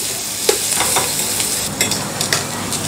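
Cooked potato slices being stirred into a spiced mixture in a hot pan, continuous sizzling with repeated spatula scrapes, loud and close, no voices.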